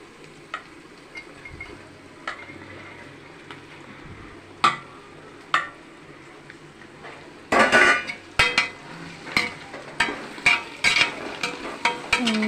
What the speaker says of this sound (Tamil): புதினா மல்லி நல்லா வதங்கிடுச்சு